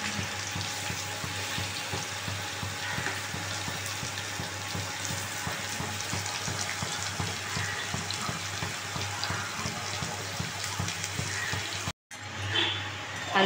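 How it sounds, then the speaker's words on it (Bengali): Potatoes frying in a pan of oil for a mushroom dish, giving a steady close sizzle and crackle that runs unbroken, then briefly cuts out near the end before resuming. "আলুগুলো ভাজা হয়ে গেছে দেখুন।"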